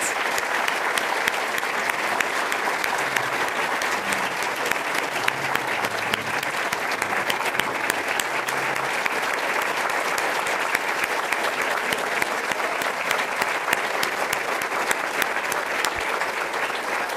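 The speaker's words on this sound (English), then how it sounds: "let's have one last round of applause for all of our honorees tonight" A banquet crowd at a Red Cross event applauds its honorees with loud, sustained clapping that fills the room steadily and without pause.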